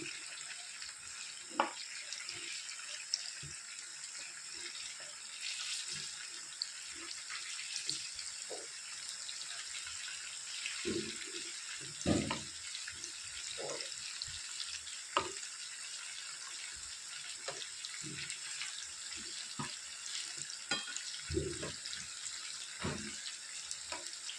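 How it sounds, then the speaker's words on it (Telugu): Chicken deep frying in oil over a medium flame gives a continuous bubbling sizzle, with scattered clinks and taps of a utensil turning the pieces. "ఇప్పుడు బాగా దీన్ని ఫ్రై అవ్వనిద్దాం"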